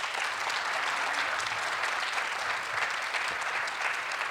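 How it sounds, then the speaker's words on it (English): Audience at an evening lecture clapping for a local artists panel, an even wash of steady applause that runs throughout, fairly soft and somewhat distant, with no speech on top. "one more round of applause for our panel here."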